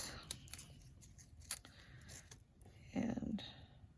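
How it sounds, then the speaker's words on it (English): Scissors snipping ribbon tails for a craft project, a few crisp cuts close by against a soft rustling background, with a quiet voice talking over them. "Just going to cut my tails off a little long"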